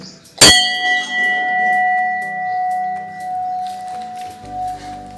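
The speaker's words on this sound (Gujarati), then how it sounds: "અને આપણે ઘંટડી વગાડી દીધી" A temple bell at a Meldi Maa shrine struck once, a loud close clang that rings on as long sustained metallic tones slowly fading.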